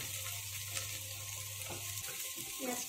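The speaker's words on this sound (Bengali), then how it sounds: "এরপর এতে দিয়ে দিলাম আমি পেঁয়াজ, ওখানে একটা বড় সাইজের পেঁয়াজের অর্ধেকটা আমি এতে দিলাম" Half a large onion frying in a pan while being stirred, a continuous close sizzle with scraping and clinks of the spoon, no talk.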